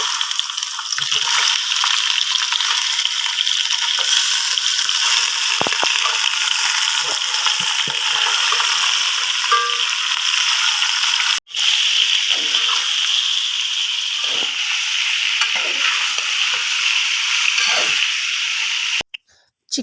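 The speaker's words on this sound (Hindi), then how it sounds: "चिकन को फ्राई करते हुए" Steady, loud sizzling of chicken frying in hot oil with browned garlic in a pot, with occasional stirring scrapes and a brief break near the middle.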